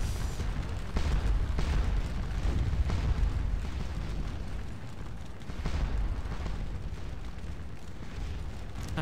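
Deep booming artillery explosions in the Waterloo battle game Scourge of War rumble one after another in a dense, continuous barrage, with heavy low thuds blending into a constant roar.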